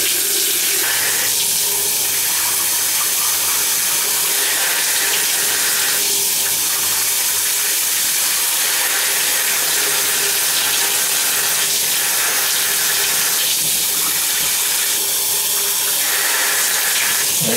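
Water runs steadily from a tap as a continuous, loud hiss and splash, unbroken for the whole stretch while waiting for hot water to arrive.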